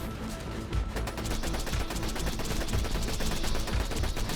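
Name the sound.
gunshots from a gun in video game Borderlands 2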